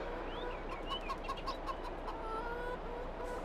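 Chickens cluck in Farming Simulator 22, a few short repeated clucks and chirps over a steady farmyard ambience, moderately close and fairly quiet.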